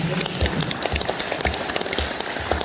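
A seated group applauds together at a motivational talk held at a villa in Bedugul, Bali, producing dense, even clapping that carries on steadily at close range.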